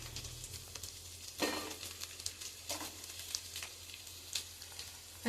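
Chopped carrots, onions and green chillies fry in a pan over ginger-garlic paste for veg pulao, a low steady sizzle broken by several sharp crackling bursts, with no talk.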